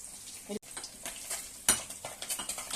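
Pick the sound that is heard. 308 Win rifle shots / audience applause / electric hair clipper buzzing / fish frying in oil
fish frying in oil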